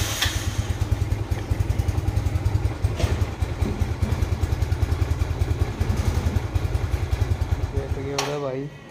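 Motorcycle engine on a town street in Vietnam, a close, loud, steady idling putter with rhythmic pulses throughout, a clatter near the end, and a voice talking over it.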